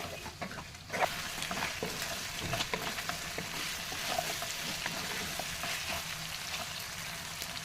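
Ginger stirred in a pan over lowered flame while cooking chicken curry, a steady close sizzle with scraping stir strokes throughout, no talk.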